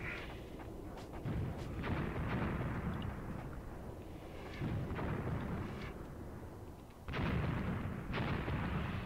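Gunfire and artillery rumble through a Graviteam Tactics battle at Kharkov 1942, dense low booms and bursts rolling continuously at moderate loudness with brief lulls between volleys.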